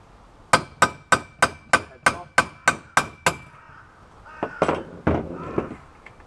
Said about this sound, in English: Take the punch and the hammer.